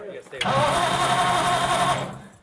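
A Ford Flathead V8-60 in a hot rod, not run for a few years, cranks briefly and catches, then runs at a loud, rough idle before fading out.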